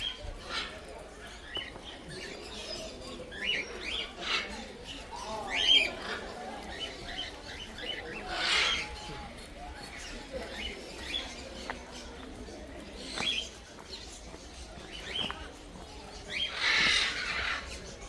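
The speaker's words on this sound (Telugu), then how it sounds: "చిలుకలు అట్లా అరుతాయి, నాకు తెలం కూడా తెలియదు ఇప్పటిదాకా." Parrots in an eco park give scattered, faint squawks and chirps at a distance over a quiet outdoor background, with brief bursts of calling spaced across the scene.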